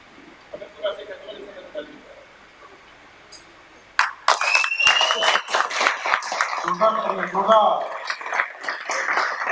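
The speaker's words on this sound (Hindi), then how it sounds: "एक बार जोरदार तालियां होनी चाहिए।" Loud audience clapping from a crowd at a product demonstration, breaking out suddenly midway and continuing densely to the end, with speech heard over it; only quiet room sound comes before.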